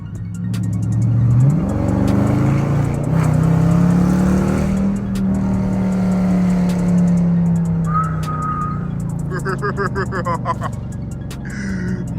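A loud widebody Dodge Challenger R/T with a 5.7L engine revving hard while driving in traffic, the exhaust note sweeping up and holding a deep strained drone, then easing off with brief higher tones near the end.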